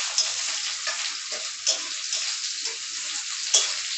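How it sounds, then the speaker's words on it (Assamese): Potatoes frying in a pan, a close, steady sizzle broken by a few sharp pops and stirring scrapes, with no one talking. "এই আলুখিনি অকণমান ফ্ৰাই কৰি ল'ম"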